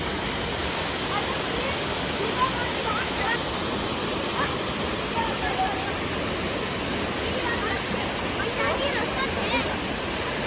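Broadband rushing water of a waterfall near Manali, reached by a trek and beside a small tea and snack shop, roaring steadily and close for the whole stretch with no pauses.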